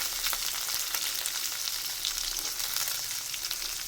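Green and dried chillies, onion and chana dal sauté in a pan for tomato chutney, giving a continuous close sizzle with soft crackling and occasional stirring, no talk.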